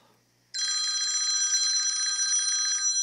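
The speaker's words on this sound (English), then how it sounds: "Is that my landline? I didn't even think that thing worked." A landline telephone rings with a bright electronic trill that starts abruptly after a short quiet moment and continues steadily, loud and close, with no one talking.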